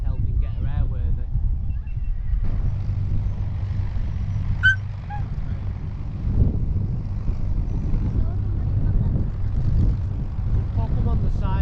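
Engines of the Avro Lancaster bomber Just Jane run steadily on a taxi run at the Lincolnshire Aviation Heritage Museum, a continuous low propeller drone heard from a distance, with voices talking over it throughout.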